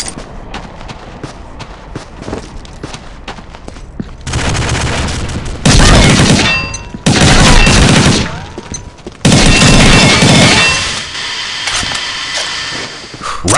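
Loud bursts of M4A1 rifle fire in the shooter game Combat Arms, with rapid automatic volleys separated by short pauses, dense and close over a game background.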